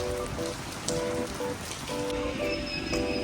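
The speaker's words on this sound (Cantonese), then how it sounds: "跟住又落大雨喎" Heavy rain pours steadily outdoors in Changsha, a dense, even hiss of drops on hard surfaces with faint tonal hums running underneath.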